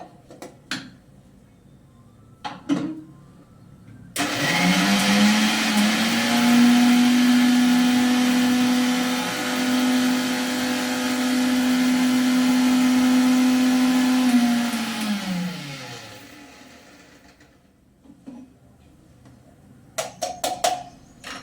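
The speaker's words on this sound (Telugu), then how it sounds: "ఇది పట్టా, లాంగ్, ఇలాచి వేసి ధనియాలు మన వేయించుకొని రుబ్బుకోవాలండి" A mixer grinder whirs loudly for about ten seconds, grinding roasted coriander seeds with cinnamon, cloves and cardamom, its motor a steady drone that rises and winds down, with a few clicks before and after.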